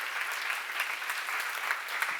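A church seminar congregation applauds, steady dense clapping heard from a short distance at moderate loudness, continuous throughout with no voices over it.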